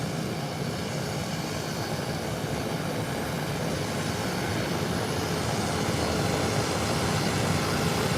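A Beechcraft aircraft rolls onto the runway for departure at an airport, its engine a steady, loud broadband roar and drone that swells slightly toward the end, heard from nearby with no voices.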